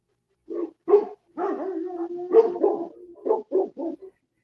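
Dogs barking in a home: a close, loud run of about eight sharp barks and yips, some brief and clipped, one drawn out, with no talking.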